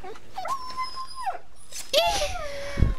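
Dog whimpering in The Walking Dead video game: a drawn-out, wavering whine rising and falling over a few seconds, close and fairly clear, with a second, brighter cry near the end.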